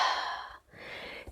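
A single forceful exhale pushes air out in a long breathy rush, followed by a short pause and a second, softer outward breath, close and quiet.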